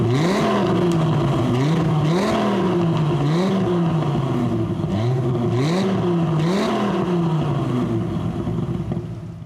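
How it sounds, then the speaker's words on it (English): A 1996 Dodge Viper RT/10's V10 is blipped repeatedly through its rear exit exhaust, loud close revs rising and falling in a rhythmic series of about eight pulls before the engine drops back. "Take a listen to a few revs of this fantastic V10."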